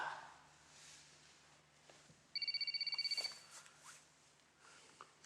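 A phone rings indoors in a quiet room, a short burst of rapid electronic trills lasting about a second over faint background noise, with no one speaking.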